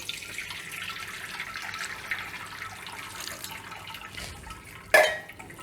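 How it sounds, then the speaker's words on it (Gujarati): Cold water running from a tap over cooked Maggi noodles in a strainer, a steady close splashing flow with no talk, ending in a short sharp clatter. "થોડુંક આપણે એમાં ઠંડુ પાણી એડ કરી દઈશું"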